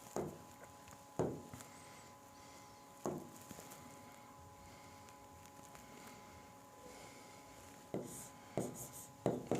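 Chalk or marker on a classroom board during a lecture on determinants, heard as soft, quiet scratching strokes with a few sharper taps and bursts of writing, and no voices.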